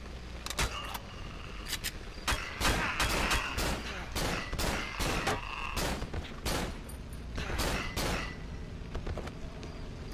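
Rapid bursts of gunfire from the survival horror video game Cry of Fear, many sharp shots in uneven clusters across the whole stretch, loud and close over a steady game background.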